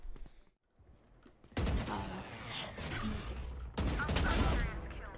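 Bursts of gunfire ring out in a Valorant match, loud clustered volleys after a brief lull, with players chattering over the shots.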